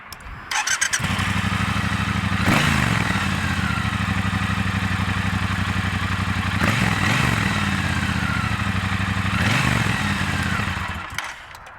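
A Triumph Bobber motorcycle engine cranks and fires up, then idles steadily with a close, throbbing rumble and a few revs before cutting off.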